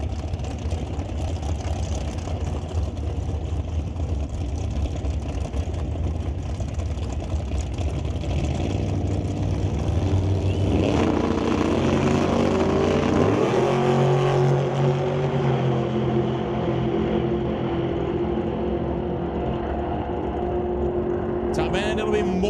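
Drag racing cars at Mission Raceway Park roar at a drag strip, a loud, sustained engine drone that builds and shifts in pitch midway through, under a commentator talking continuously.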